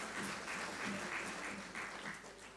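An audience claps steadily during a religious discourse by Pandit Vijay Shankar Mehta, sustained crowd applause with a regular patter, soft and somewhat distant, without speech over it.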